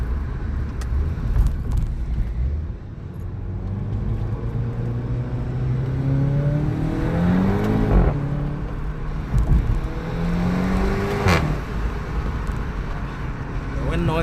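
A VW Golf GTI TCR (213 kW, DSG) with a free-flow exhaust while driving, heard from inside the cabin as a steady engine drone that rises through a couple of rev sweeps and shifts, mixed with wind and road noise.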